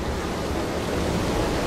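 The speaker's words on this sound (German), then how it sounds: "Meine Güte, ist dieser Wasserfall laut." A loud waterfall in the video game Dishonored roars as a dense, unbroken broadband rush, steady and close throughout, with no voices.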